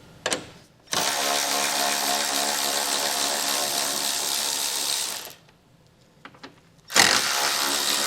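A power ratchet with a 10mm socket backs out bolts across the top of a 2016 vehicle's front grill, giving a loud, sustained buzzing whir of several seconds, a pause with small clicks, then another burst.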